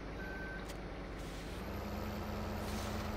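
A modded truck in Farming Simulator 15, set in South West Norway, idles with a steady engine rumble while a thin, high beep sounds briefly and air brakes hiss, all at close range.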